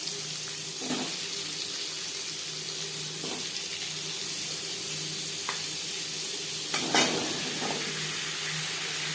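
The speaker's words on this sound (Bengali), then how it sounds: "সবার প্রথমে আমি আলু ভেজে নেব" Potatoes fry in a pan for a vegetarian potato and pointed gourd dish, a steady hiss running throughout with a few brief louder crackles and spatters, no talking.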